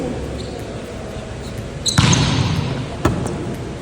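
A volleyball is received with the fingertips, giving a sharp slap of contact. A second, fainter hit follows about a second later over quiet indoor room noise.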